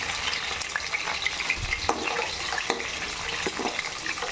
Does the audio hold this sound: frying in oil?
yes